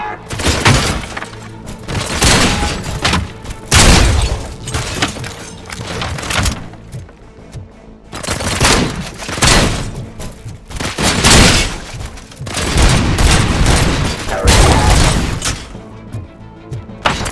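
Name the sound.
gunfire in RoboCop: Rogue City video game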